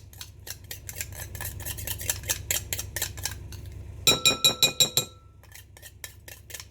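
Metal grater being scraped with a utensil to clear off grated food for a sweet treat, a rapid run of sharp scratchy clinks followed by a burst of five or six louder rhythmic scrapes, close and alone.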